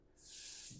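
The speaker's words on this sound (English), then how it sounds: "I just spray the rag and I wipe the body down" A short, quiet aerosol hiss of wax and grease remover sprayed onto a rag during bodywork on a 1940 Ford pickup, one steady burst lasting under a second.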